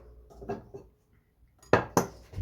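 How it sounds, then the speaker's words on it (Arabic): A cooking pot is handled close by, with a few soft knocks followed by two sharp metallic clanks near the end. "ناخذ الطنجره"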